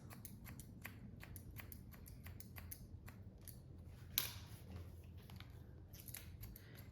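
Scissors point cutting hair during a pixie haircut, a series of short crisp snips repeating at an irregular rhythm, close and quiet, with one sharper snip partway through.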